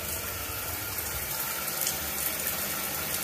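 A hot water tap runs steadily after a faulty Hall effect sensor on a heating system is repaired, a continuous loud rush of flowing water with no talk over it.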